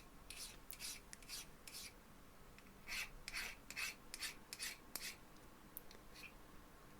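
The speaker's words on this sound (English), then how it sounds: "Removing sharp edges with a file." A hand file rasps across a metal collar clamp workpiece, removing sharp edges in short, repeated strokes, some quick and light, others longer and heavier, close up and fairly quiet.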